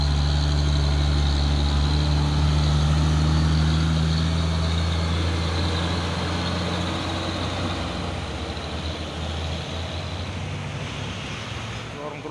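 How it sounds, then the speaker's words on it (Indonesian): A Mitsubishi Colt Diesel truck drives in with a loud, steady low engine rumble that dominates throughout and fades slightly toward the end, with wind noise mixed in. "Masuk lagi dia, Kol Diesel membawa apa ini?"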